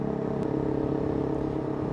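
A CF Moto 450 MT motorcycle engine runs steadily while riding at about 4,000 rpm, a constant droning hum and rumble mixed with wind noise, with no speech over it.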